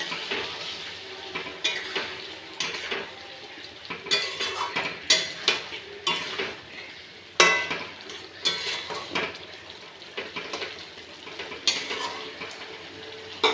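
A pot of chicken curry with ground garam masala, stirred by hand: a sustained gentle sizzle runs under repeated scraping and clattering strokes of a utensil against the pot, at close range, with no talking.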